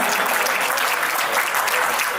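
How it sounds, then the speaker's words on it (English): Loud, dense applause from a banquet hall audience at a Republic Day event, cheering a singer after a song; steady and continuous throughout, with no voices on top. "A huge round of applause for Tejasvita ji"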